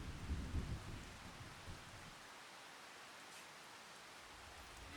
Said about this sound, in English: it is literally raining at the moment